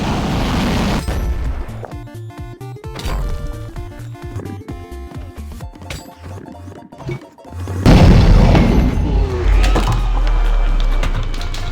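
Deep booms and crashing bursts from the ender dragon's death in Minecraft, with loud rumbling impacts, scattered popping hits, and a powerful sustained roar that swells near the end.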